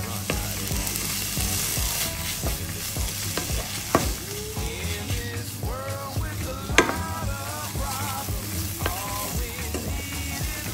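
Mushrooms with parsley and garlic sizzling in a pan, stirred with a utensil that scrapes and clacks irregularly over a steady close frying hiss, a few soft voice-like sounds in the background.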